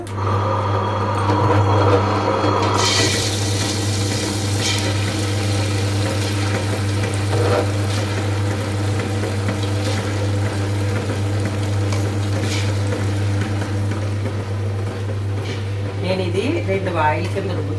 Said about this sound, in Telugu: ఇప్పుడు గ్రైండర్ ఆన్ చేస్తున్నాం కదా